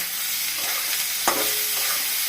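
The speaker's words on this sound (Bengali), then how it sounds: "ফুলকপিটা যখন একটু ভাজা ভাজা হবে তখন আমি ডিমটা দিব।" Cauliflower with green chillies fries in a pan for an egg bhujia, giving a steady close sizzle with stirring scrapes and one sharp clank of a utensil against the pan partway through.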